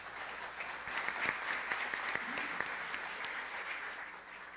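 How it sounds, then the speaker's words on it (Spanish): Audience at an academic round-table colloquium applauding, a steady wash of many hands clapping at moderate distance, continuous and fairly even, with no talking over it. "Recibámoslos también con un aplauso."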